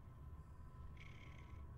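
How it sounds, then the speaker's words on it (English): A soft, steady cat purr rumbles low throughout, with a faint higher tone rising briefly midway; no one speaks. The purr is from the video game Poppy Playtime Chapter 3. "Most of the time, I'd be really happy to hear a cat purring"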